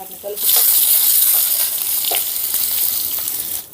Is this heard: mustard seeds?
yes